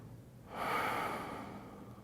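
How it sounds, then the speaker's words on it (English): A single slow breath during a yoga child's pose, a soft airy exhale that swells after a brief pause and fades gradually, close and quiet with no talking. "And take a couple of breaths."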